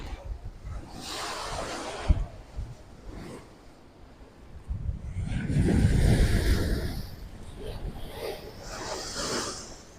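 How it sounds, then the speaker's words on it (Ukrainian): Heavy surf of a rough sea at a beach resort in Belek, Turkey, rolls and crashes in surges, with strong wind noise buffeting the microphone between waves. "Сьогодні море бурхливе,"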